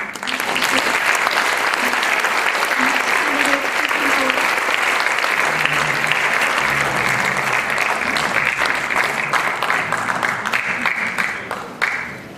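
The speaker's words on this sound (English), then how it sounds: "And now you may applaud." Audience applause at a League of Women Voters candidate forum for local election candidates, a sustained, loud wash of many hands clapping that holds steady for about twelve seconds before tapering off at the end.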